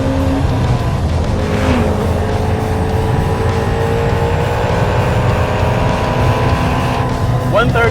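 A Ford Shelby GT350 at full throttle gives a loud, close engine roar that climbs steadily in pitch through the gears, with a voice speaking over the engine.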